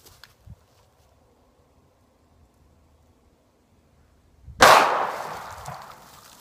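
A single sharp gunshot from a Sig Sauer 1911 pistol firing .45 Auto rings out after a quiet stretch, a loud close crack followed by a short decaying outdoor echo.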